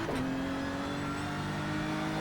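A GT3 race car in the iRacing sim accelerates out of a hairpin, its engine droning steadily with rising tonal harmonics, loud and continuous throughout with no talk.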